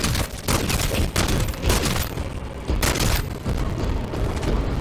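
Longbow sniper rifle fire in Modern Warfare 3 Zombies sounds as repeated loud, heavy booming shots. They arrive in quick succession over a dense, continuous blast of game noise.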